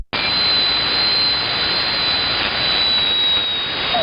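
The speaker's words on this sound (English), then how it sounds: "I think I did alright with the fan noise. It's in there a little bit" Fan noise fills a ham radio shack as a steady, loud hiss of rushing air, with a faint high whine on top, starting abruptly and holding constant with no speech.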